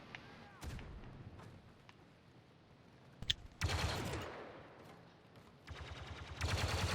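Bursts of machine gun fire from a Battlefield 2 battle crackle in short clusters, loudest in rapid volleys around the middle and again at the end, mixed with distant shots and game noise.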